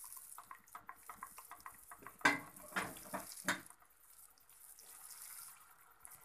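Flour added to hot ghee and oil in a pan for white sauce, with soft rhythmic scraping of a spoon, then a few sharper clatters against the pan and a quiet sizzle near the end.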